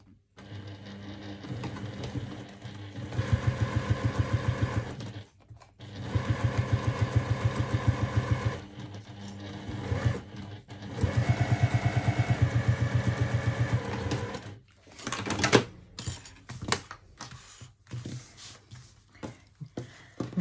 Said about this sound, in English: we're going to edge stitch right along here